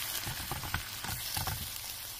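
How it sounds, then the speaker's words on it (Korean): Seasoned beef sauce hits minced beef in a hot frying pan over medium heat, giving a steady, close sizzle with soft crackling and popping that carries on without pause. "소고기 양념을 부어주세요"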